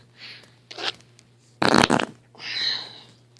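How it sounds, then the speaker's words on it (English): A child blows fart noises against a mother's belly, with several short sputtering raspberry bursts and a longer loud blast in the middle, heard close and without talk. "Are you making fart noises on Mommy's belly?"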